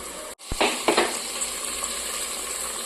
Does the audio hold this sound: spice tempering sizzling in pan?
yes